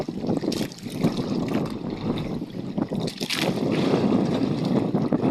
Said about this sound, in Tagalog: Mahangin at malon